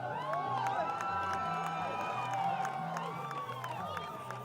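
Crowd at a high school playoff football game, a muffled wash of distant cheering and shouting with a few whoops rising over it, plus a steady low hum underneath.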